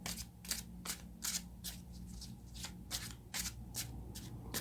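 Tarot cards being shuffled for a reading, a quiet close riffle repeating in a regular rhythm of short fluttering bursts over a low background hum.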